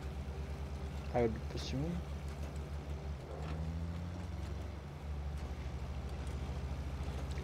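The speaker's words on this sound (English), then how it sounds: "I think it just has the 4-liter V6 noise." The 4-liter V6 of a 1983 Ford Ranger in the SnowRunner off-road game produces a steady, low engine drone that dips and returns, with someone talking over it.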